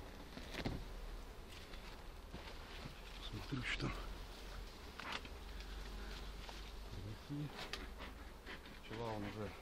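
Bees buzz around an opened hive of Buckfast colonies, a steady insect drone with scattered louder passes near the microphone, while someone talks intermittently over it.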